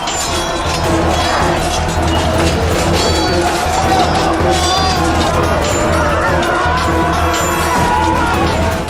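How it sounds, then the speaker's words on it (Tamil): Swords clashing on a Mahabharata battlefield, metallic clinks buried in a dense, continuous roar of shouting warriors and crowd noise that stays loud throughout. "வாளோடு வாள் உரசும் சத்தம்."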